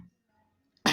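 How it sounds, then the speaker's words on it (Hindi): A single sudden cough from a teacher during a lesson, loud and close, bursting in after near silence at the very end. "खांसी आ रही है"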